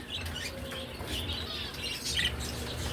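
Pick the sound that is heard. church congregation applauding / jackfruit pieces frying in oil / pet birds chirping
pet birds chirping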